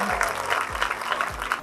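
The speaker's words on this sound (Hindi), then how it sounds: "इरशाद भट्टी साहब के लिए फिर से तालियां बजाएं" A crowd claps for Irshad Bhatti at an event at Governor House Karachi: steady, dense applause runs the whole moment, with a low thumping undertone pulsing through it.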